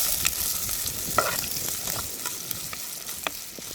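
Chopped onions and green chillies sauté in a pan with a steady close sizzle, broken by a few sharp spatula clicks and scrapes, and nobody speaks.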